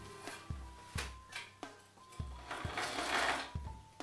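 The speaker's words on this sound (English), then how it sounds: "I'm going to stitch the top edge just so it doesn't fray." A sewing machine stitches the top edge of wool shirt fabric in short bursts, its needle clattering rapidly with sharp thumps between runs; close and fairly quiet, no voices.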